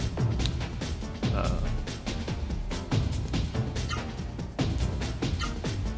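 Frog croaks from the Legend of Legaia video game, repeated rhythmic croaking blended into busy game music and effects, fairly loud throughout.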